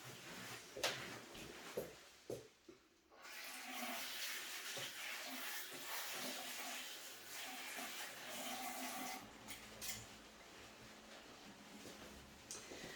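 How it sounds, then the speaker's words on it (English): A hand-washing sink at a home craft table runs as a faint, steady rush of water for several seconds, with a few knocks and clatters before it and close by. "Just going to wash my hands."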